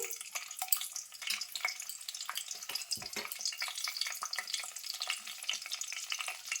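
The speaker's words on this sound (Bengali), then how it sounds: "তেলটা গরম হয়ে গেছে তেজপাতা দিচ্ছি দুটো শুকনো লঙ্কা দিয়ে দিচ্ছি" Bay leaves and dried red chilies crackle and sputter in hot oil for a mango-jaggery pickle, a dense, continuous bright sizzle close up with small pops, no voices.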